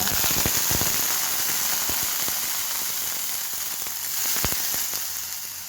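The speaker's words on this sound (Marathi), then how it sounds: "तेल तापलं आहे आपण आता मोहरी घालू" Mustard seeds and soaked moong dal hit hot oil, giving a loud, dense sizzle with rapid crackling pops throughout, close and alone, without any talk.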